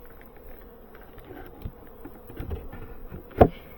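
Honeybees at an opened beehive, a faint low buzzing hum with occasional soft knocks and clicks close by, and one sharp bump near the end.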